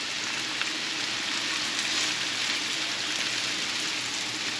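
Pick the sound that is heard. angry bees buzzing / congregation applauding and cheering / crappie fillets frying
crappie fillets frying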